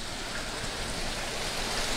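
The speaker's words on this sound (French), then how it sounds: "Alors, ici, ça, ce sont les cascades de chez Ubink." Garden water cascades at an Aquiflor display pour in a steady, dense rush of splashing water, loud and continuous with no voices over it.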